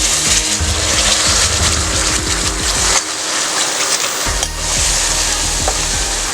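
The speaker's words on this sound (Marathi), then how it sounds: "वाटण चांगलं फिरून घेऊया।" Dal paste sizzles and fries in a pan with coriander and asafoetida while a spoon scrapes and stirs it in repeated strokes. The close, loud sizzle carries on steadily, with a short pause partway through.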